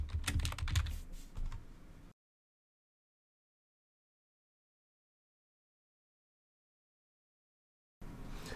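Computer keyboard typing, a close burst of quick clicking keystrokes that stops into silence and starts again briefly at the end.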